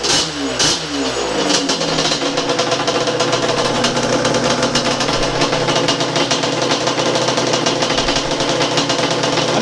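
A drag-built Yamaha Banshee engine runs loud and steady close by, a continuous raspy idle after a brief rough start, with no talking over it.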